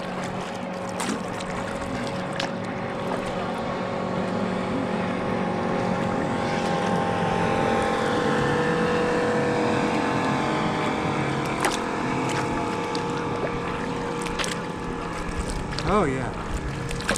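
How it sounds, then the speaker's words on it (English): A motorboat passes on a river with a steady, broad engine drone that swells and holds, mixed with wind and water noise. It sounds close and continuous. "Boat coming at us"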